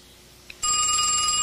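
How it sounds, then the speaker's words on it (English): A telephone starts ringing abruptly after a quiet room, a loud electronic trilling ring that continues steadily without voices. "Answer the phone, Mama."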